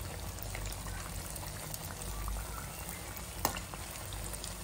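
Wheat flour sweet dumplings frying in hot oil, a continuous low bubbling sizzle close by, with one sharp tap partway through.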